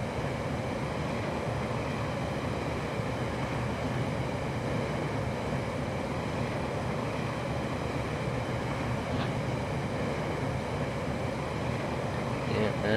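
A model train in the railway game Rolling Line rumbles along its track in a steady, continuous low roll with faint rhythmic clicks, unbroken from start to finish.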